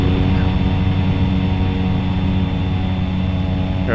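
Engines of a Carenado C208 aircraft in the X-Plane 11 flight simulator: a loud, steady turboprop drone with strong tonal hum, continuous and close throughout.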